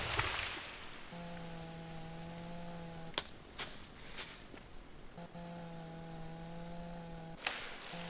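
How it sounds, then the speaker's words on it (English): A chainsaw in the Mon Bazou driving game cuts through a fallen tree blocking a road, running in two sustained, steady buzzing bursts of about two seconds each, separated by quieter idle pauses. "Chainsaw."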